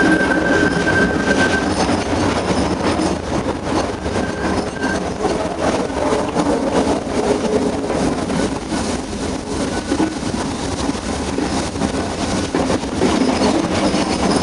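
A rack and pinion mountain railway train runs steadily near Ooty, its continuous rumbling and rattling of wheels and cars close and loud throughout, with a brief squeal and no voices.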